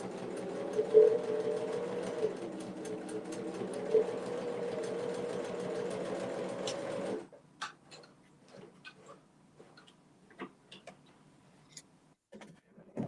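A sewing machine stitches a fabric basket in a fast, rhythmic mechanical run for about seven seconds, then stops, leaving scattered soft clicks and handling sounds.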